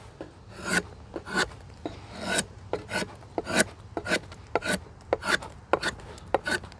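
Drawknife shaving wood, a series of about fifteen sharp rasping strokes at an irregular steady rhythm, each a brief scraping slice heard close and alone with no talk.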